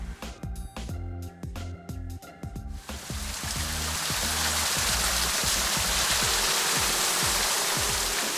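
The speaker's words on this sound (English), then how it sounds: "Well, the waterfall is now running." A man-made backyard garden waterfall, starting with a few irregular splashes and then swelling into a steady, dense rush of falling water that carries on without pause.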